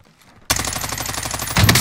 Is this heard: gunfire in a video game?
yes